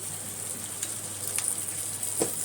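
A small splash of water goes into frying masala of onion, ginger and garlic paste for a fish roe and potato curry, producing a steady, close sizzling hiss with a few soft crackles.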